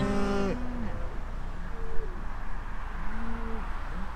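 Cattle in a farm yard give a loud, close moo at the start, followed by several fainter, shorter lowing calls from the herd over steady outdoor background noise.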